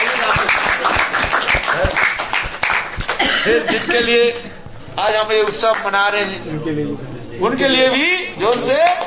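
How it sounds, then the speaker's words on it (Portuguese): Festival audience at a Gopastami evening gathering in Mathura, India, breaking into applause and laughter, with bursts of clapping mixed among chatter and a voice speaking over parts of it. "Então, para vocês, uma salva de palmas."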